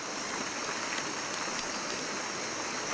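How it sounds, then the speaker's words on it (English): Steady rain falling in a wilderness survival camp, a dense even hiss of drops that fills the whole moment without letup, moderately loud, with no talking. "It's raining again."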